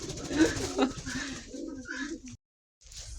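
Pigeons coo in low, soft bursts with some rustling nearby, then a brief pause before faint sounds resume.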